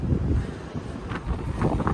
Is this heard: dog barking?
no